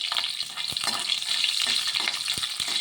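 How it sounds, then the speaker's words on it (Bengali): Green chillies fry in hot oil over crackling panch phoron spices, a dense close sizzle punctuated by quick spatula stirs and small pops. "কটা কাঁচা লঙ্কা দিয়ে দিলাম,"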